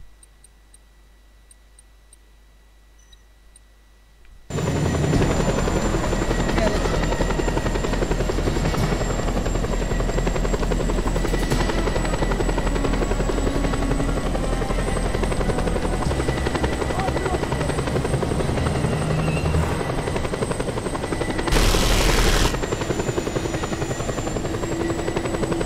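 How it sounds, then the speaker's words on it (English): Helicopter arriving in the video game Just Cause 2, a loud steady rotor drone that begins abruptly after a few quiet seconds and continues unbroken, with a brief louder burst near the end. "Chopper arriving shortly."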